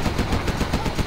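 A Gatling tank fires in Command & Conquer Zero Hour: a loud, rapid burst of machine-gun rounds in an even rhythm, close and continuous.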